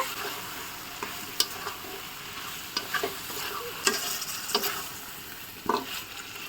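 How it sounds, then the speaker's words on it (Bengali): Pre-boiled liver and fried potatoes being stirred in spiced masala in a pan, with steady sizzling and repeated scraping clicks of the spatula at close range, no voices. "আগে থেকে সিদ্ধ করে রাখা কলিজা আর হচ্ছে আলু ভেজে রেখেছিল সেটাকে দিয়ে এখন একটু নাড়াচাড়া করে নিচ্ছে"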